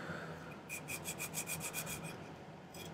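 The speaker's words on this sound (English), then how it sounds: "I know this is a single cut, but when you're filing like this, it's easiest to do that." Repeated rasping strokes of a single-cut file across a silver ring piece for a turquoise ring, about a dozen even back-and-forth rubs in a steady rhythm, close and moderately quiet, with no talking.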